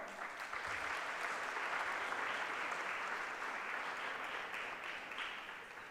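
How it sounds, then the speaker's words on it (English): A school audience applauds at a grand opening ceremony, a dense and steady wash of clapping that holds for several seconds and tapers slightly at the end. "Please give him a round of applause."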